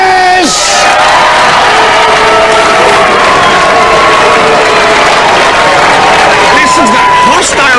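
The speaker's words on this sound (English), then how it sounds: "Listen to that hostile crowd." A large studio crowd at a Robot Wars robot-combat show roars, whoops and cheers loudly and continuously, with shouting voices layered through the din.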